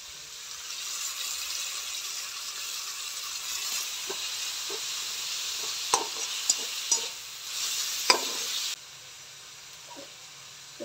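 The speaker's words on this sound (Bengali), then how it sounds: "তো পেঁয়াজটা হালকা ভাজা হয়ে যাক" Onions fry gently in a pan for biryani, a soft continuous sizzle and hiss with a few light stirring knocks and scrapes, close by and with no talking.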